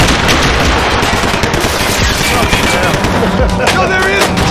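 Rapid gunfire from the video game Max Payne 3 crackles in dense, continuous bursts, loud and close. A voice shouts over the shooting.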